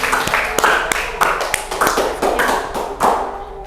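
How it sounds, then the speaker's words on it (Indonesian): A small classroom group of students claps for the presenting team, with scattered, uneven hand claps close by, mixed with voices talking over the clapping. "kasih aplaus untuk kelompok mereka"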